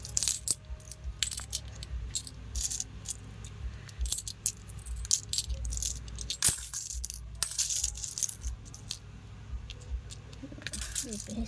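Coins are dropped and clinked together while being counted into savings, with repeated bursts of metallic jingling separated by quiet gaps and a soft low background hum.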